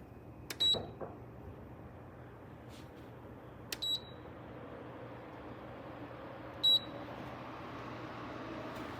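A Dreo bedroom tower fan with five speeds and four modes runs with a soft, steady airflow hiss, broken by three short, sharp electronic beeps from its controls.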